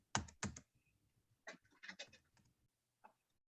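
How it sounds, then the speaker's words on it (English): Computer keyboard keys are pressed a few times during an online meeting, giving faint, scattered clicks separated by quiet gaps. "just hit the T on your keyboard"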